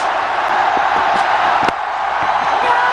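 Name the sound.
cricket stadium crowd cheering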